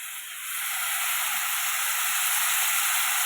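Ginger paste sizzles and hisses steadily in hot oil while being stirred into a crab curry, a broad continuous frying hiss that swells slightly after the first half second and holds even with no talk.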